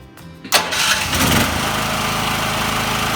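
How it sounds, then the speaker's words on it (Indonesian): A Proquip E3X petrol generator starts after a brief quiet moment, catching with a loud burst, then settling into a steady, close engine drone that runs on alone. "Sekarang kita nyalakan genset."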